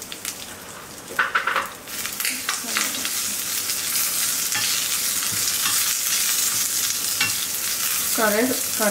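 An Andhra-style tempering of plenty of garlic in hot oil sizzles steadily as it is stirred, a loud, constant frying hiss with a few scraping stirs early on.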